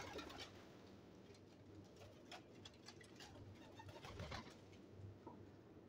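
Pet pigeons cooing close by, repeated low throaty coos over a soft background hum, with a few faint clicks and rustles.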